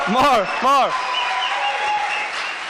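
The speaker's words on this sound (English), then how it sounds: "Nick, come on stage and more applause" Audience applause at the final day of a Startup Weekend event in Lithuania, sustained dense clapping behind a loud voice at the start, then continuing alone.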